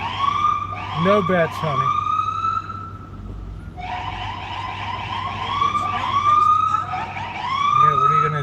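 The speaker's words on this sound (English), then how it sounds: "it wouldn't be a live stream without the sirens." Loud sirens from emergency vehicles in a Santa Rosa, California street, with sweeping wails and rapid yelps close by, pausing briefly midway before resuming, while a person speaks briefly over the start.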